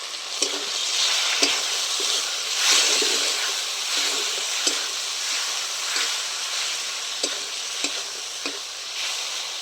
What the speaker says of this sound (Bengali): এবার টমেটোর বাটাটা দিয়ে খুব ভালো করে নেড়ে চেড়ে নিয়েছে